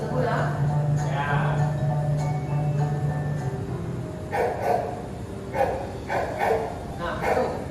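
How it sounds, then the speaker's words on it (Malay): A dog barks several times in quick clusters over a steady background hum, moderately close, with a low tone droning early on. "Dia bunyi anjing ke cikgu?"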